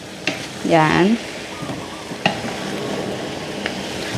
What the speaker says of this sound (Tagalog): Haluin natin ng light soy sauce.